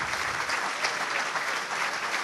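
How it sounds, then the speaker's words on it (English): An indoor crowd at a rugby breakfast claps warmly for an All Blacks player, a sustained even burst of many hands applauding nearby with no break. "And a hand for John Afoa."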